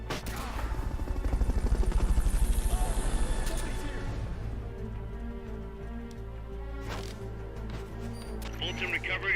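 A Fulton recovery helicopter in Metal Gear Solid: Peace Walker thrums with a loud, rapid rotor chop that swells and then fades, followed by steady game ambience and clicking effects, while a voice talks over it.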